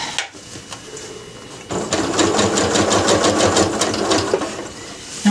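A sewing machine stitches a drawstring bag seam, a brief quiet handling sound giving way to a fast, steady mechanical whirr of the needle that runs evenly and close for the rest of the moment.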